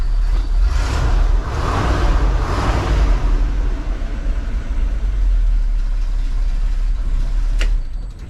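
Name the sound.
highboy ranch truck engine running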